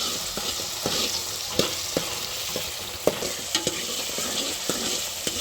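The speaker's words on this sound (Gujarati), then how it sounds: "આ રીતે આપણે ધીમા ગેસે આપણે એને હલાવતા રહેવાનું છે ડુંગળી આપણી દાજી ન જાય એ માટે" Chopped onion, tomato and chili frying over a low gas flame, a steady soft sizzle with repeated clinks and scrapes of a spoon stirring the pan, close and fairly quiet with no talking.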